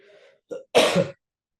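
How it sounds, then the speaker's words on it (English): A single sharp cough, close and fairly loud, preceded by a brief breathy sound, then silence. "That's the first of my many coughs."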